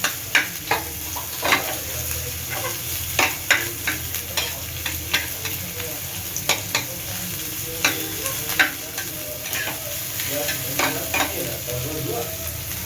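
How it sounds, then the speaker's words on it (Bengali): Onions fry in a pan for sandwich filling: a steady close sizzle runs throughout, broken by repeated sharp scrapes and clacks of stirring at an irregular rhythm, with no voices. "এবার আমি সাইডে পেঁয়াজগুলো দিয়ে দিলাম, পেঁয়াজটা ভাজতে হবে"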